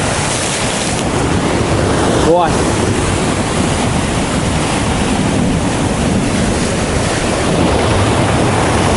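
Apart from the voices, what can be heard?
sea waves crashing on shore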